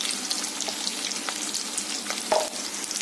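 Lightly browned onions fry with turmeric in a pan over high gas, a soft, fairly quiet sizzle with a few faint stirring scrapes and one brief clink near the end, and no talking.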